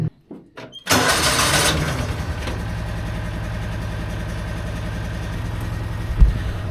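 John Deere Gator TX utility vehicle engine cranks briefly and catches, then settles into a steady, close, even idle with a faint knock near the end.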